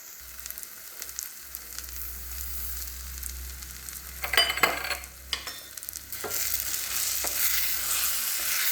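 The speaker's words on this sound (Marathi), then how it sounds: "व्यवस्थित हलवून मिक्स करून घ्यायचे। घट्ट होईपर्यंत मिश्रण हलवत राहावे" A sugar mixture stirred continuously in a hot pan, soft scraping strokes and light sizzling that build into a denser, louder bubbling hiss toward the end, with no talking.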